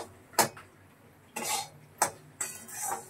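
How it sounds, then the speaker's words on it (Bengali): Semolina being dry-fried in a home kitchen pan, heard as four sharp scraping strokes of a spatula against the metal, spaced about half a second to a second apart, with quiet stretches between. "সুজি ভাজা হচ্ছে, এখন সুজি হবে।"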